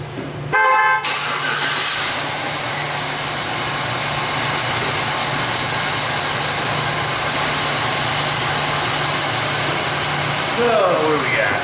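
A Chevy truck engine with a weak battery cranks briefly, then catches and settles into a steady idle that runs loud and close throughout.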